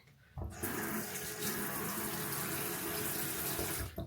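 Tap water runs steadily into a sink for a face wash, a continuous close splashing rush that starts abruptly and carries on alone for several seconds.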